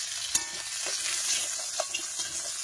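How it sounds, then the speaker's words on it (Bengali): Fish taken from the fridge fries in hot oil in a wok, a steady close sizzle with a few sharp crackles and spatters throughout. "কড়াই তেল দিয়েছি, আর এই যে ফ্রিজের মধ্যে রাখা ছিল মাছ কিন্তু দিয়ে দিলাম"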